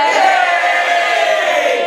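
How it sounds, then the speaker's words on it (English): A live audience in Camden cheers loudly in answer to a question about washing up, a dense, sustained crowd roar of voices that stays steady for a couple of seconds. "could you cheer now, please, if you do most of the washing up in your house?"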